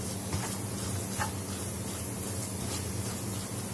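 Masala for a mutton curry fries in a pan with a steady, close sizzle and hiss that runs continuously under a low background hum.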